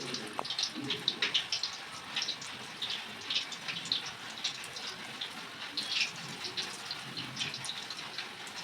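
Soya chunks for Soya 65 fry in hot oil with a continuous bubbling sizzle, dotted with small crackles and pops, steady and fairly close.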